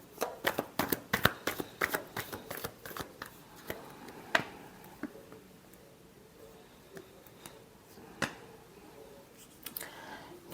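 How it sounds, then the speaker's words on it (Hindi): Cards being shuffled by hand, a quick run of riffling flicks that thins into scattered soft taps and slides, close and fairly quiet with no talking. "Last shuffle."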